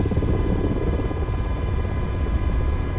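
An MH60 helicopter lifts off in a flight simulator game, a loud continuous rotor thrum and turbine whine holding steady throughout, with no talking.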